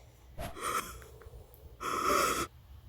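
A collapsing young man takes two loud, ragged breaths, a short gasp followed by a longer, heavier wheezing exhale, up close with no talking.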